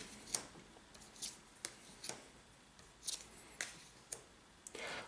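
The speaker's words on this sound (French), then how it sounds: "nous allons simplement tirer les 5 premières cartes" Cards drawn one by one from a deck during a DC Comics deck-building card game, a quiet series of about ten crisp little snaps and slides at irregular spacing.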